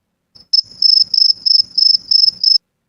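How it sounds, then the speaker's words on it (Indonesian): An AI-generated cricket chirp, steady and high-pitched, in a fast rhythmic pulse of about eight trills, clear and close against silence. "di sini saya sudah buat sebelumnya suara sound effect jangkrik"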